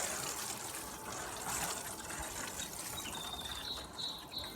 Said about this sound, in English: I'm just going to add a little water to mine.